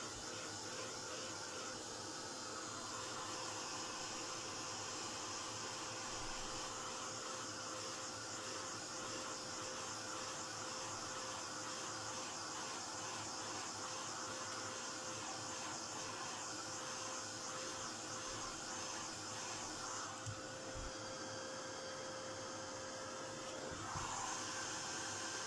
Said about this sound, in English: I'm going to give it a quick waft with the heat gun